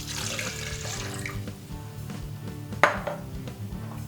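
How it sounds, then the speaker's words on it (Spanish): Water poured into a blender cup for peanut sauce, a continuous close splashing trickle with a sharp clink of the cup partway through. "Ponemos en un vaso batidor el agua"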